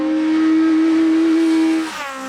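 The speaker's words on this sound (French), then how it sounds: "L'aîné des frères Lanterman, Jérémy, au pilotage toujours très généreux, positionne sa Saxo en tête de la classe F2002." Citroën Saxo rally car in the F2002 class on a hillclimb course, its engine holding a loud, steady high-revving note before shifting and easing off near the end.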